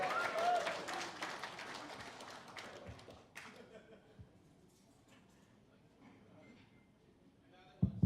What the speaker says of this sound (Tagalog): Parang mahina yung palakpak media